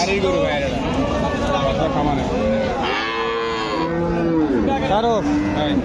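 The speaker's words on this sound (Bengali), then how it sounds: "ওই গাভীর বাচ্চা এটা দেখো" A Friesian dairy cow and her calf moo loudly and repeatedly at a busy cattle market in Dupchanchia, Bogura, over steady crowd babble and nearby talking.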